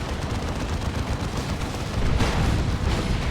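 Bright Lance weapon shots in the Dawn of War 2 video game crackle within dense battle noise, a continuous rattle of gunfire and blasts that grows louder midway.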